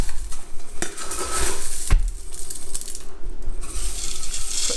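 Dried carrots tipped into an Instant Pot for bone broth, clattering and rattling against the metal pot with scattered clinks and a sharp knock partway through, close and fairly loud.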